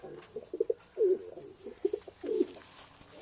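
Pigeons coo in a loft of young birds, several soft throaty coos and short rolling calls coming in clusters, close and fairly quiet against a faint background hum.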